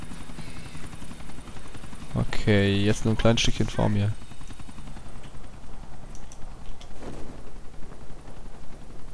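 Helicopter rotor and engine noise in the video game GTA The Ballad of Gay Tony, a steady drone through the clip with a louder burst of effects in the middle, under someone talking.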